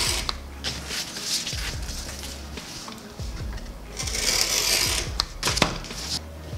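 A cutter trimming 2mm Soric core material for a carbon fiber inlay gives close, repeated crisp snipping and scraping clicks in short irregular bursts, with a busier stretch of cutting near the end.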